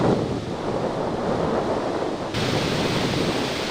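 Heavy floodwater pours into the Tungabhadra dam reservoir during monsoon rains in Karnataka, a dense, unbroken roar of rushing water, loud and steady with no voices.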